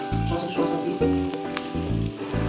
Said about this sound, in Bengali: এখন এখানে দিয়ে দিচ্ছি ক্যাপসিকামগুলো।